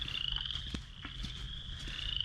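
Frogs croak in a loud, steady chorus at a nature center, with a continuous high trill and a few deeper croaks close by. No one speaks.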